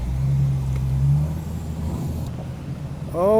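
Drift cars running in tandem, a loud engine drone and rumble with a rising rev near the end, heard from inside one car without talk.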